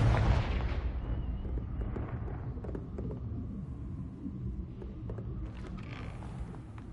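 Confringo fire spell blasts in Hogwarts Legacy, a loud booming burst at the start followed by a rumbling tail and several smaller sharp impacts, with no talking.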